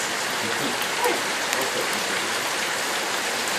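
Small hail mixed with rain falls outside during a thunderstorm in College Station, a dense steady rattle and hiss of ice pellets nearby, with a brief faint voice in the background.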